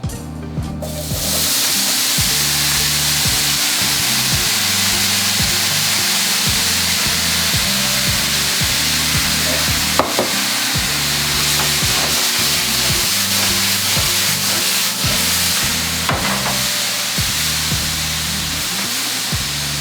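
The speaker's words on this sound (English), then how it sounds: "now we're gonna add our apples" Apples sizzle in a pan coated with a little rapeseed oil, a steady loud frying hiss with stirring scrapes, with rhythmic low thumps running underneath throughout.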